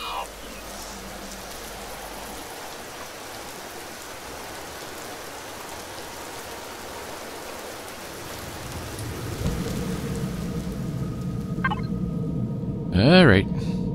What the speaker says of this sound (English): Well, of course, it's raining.